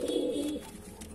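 A single short coo comes from a red-headed Madrasi pigeon, a soft murmuring burst up close that fades within a second.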